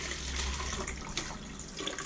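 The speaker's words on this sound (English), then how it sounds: "I think I'll put quite a lot of this water with nutrients into this new one" Water mixed with nutrients is poured into a new houseplant container, producing a soft, continuous splashing trickle that stays fairly faint and steady, with no voices.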